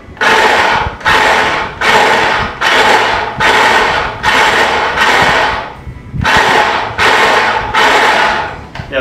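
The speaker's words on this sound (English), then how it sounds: "Oh, come on, food processor." A food processor grating potatoes for homemade tater tots, running in loud repeated bursts of whirring and rattling, about eight pulses with short gaps between them.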